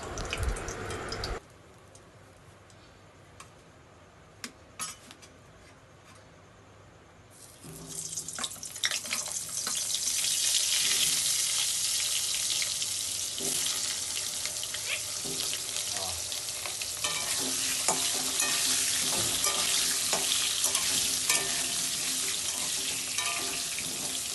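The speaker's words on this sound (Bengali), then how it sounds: "এই তেলটার মধ্যেই আলুগুলো লাল লাল করে একদম ভেজে নেবো" Steady hissing sizzle of potatoes frying in hot oil, loud and close, building after a quieter start, with occasional clinks.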